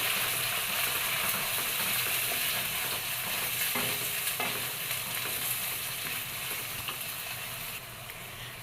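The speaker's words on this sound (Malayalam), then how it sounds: "രണ്ട് സവാള കട്ട് ചെയ്തിട്ട് കൊടുക്കാം. ഒന്ന് ഇളക്കി കൊടുക്കണം." Sliced onions frying in sunflower oil make a loud, continuous hiss and crackle close up. Occasional scraping stir strokes run through it, and no voices are heard.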